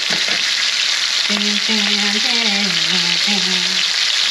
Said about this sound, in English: nagluluto tayo na. Steak.